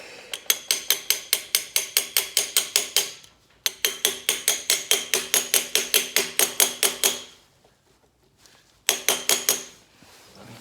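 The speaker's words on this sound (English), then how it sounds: "Might need a hammer for that." Steel hammer tapping a harmonic balancer onto the crankshaft of a Nissan Z31 VG30 engine: loud, ringing metallic strikes in steady rapid runs, about three bursts separated by short pauses.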